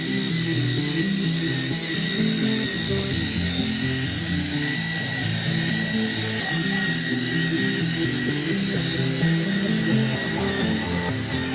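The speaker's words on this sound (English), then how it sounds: "This was left to dwell for a few minutes before proceeding with a drill brush." A power drill with a scrub brush attachment whirs steadily and loudly while scrubbing the carpets of a GMC Yukon XL interior, with a continuous high motor whine throughout and no talking.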